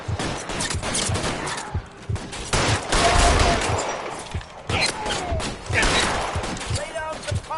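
Repeated gunfire bursts and rattling volleys from a shootout in the video game L.A. Noire, loud and dense, with voices speaking among the shots.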